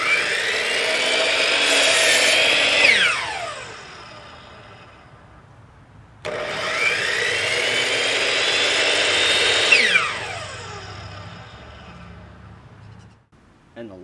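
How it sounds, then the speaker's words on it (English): A heavy-duty chop saw running on an Oukitel 2000-watt LiFePO4 power station whines up to speed, cuts and winds down twice, loud and close, with a brief pause between the two runs. "Now let's try this heavy-duty chop saw."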